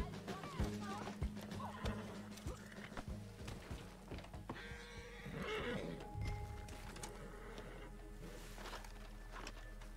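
A horse in the game Red Dead Redemption 2 whinnies loudly and snorts, with clip-clopping hooves and scattered thuds nearby, while players chat faintly underneath.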